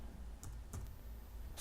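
A computer keyboard is typed on in a few sparse, faint keystrokes over a low steady background hum.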